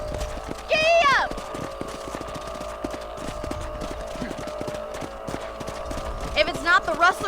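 Horses in Red Dead Redemption clip-clop along at a steady gait under the game's music and ambient sound, with a whinny-like tone near the start and more at the end.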